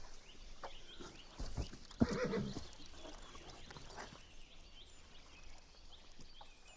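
A horse whinnies faintly in the distance amid quiet outdoor ambience, with a brief louder burst partway through.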